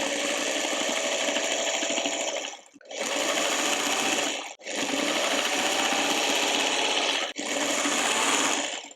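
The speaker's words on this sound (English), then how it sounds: "I just keep sewing all the way off." A sewing machine stitches a quilt block in several sustained runs, close and steady, with short pauses between bursts of fast mechanical whirring.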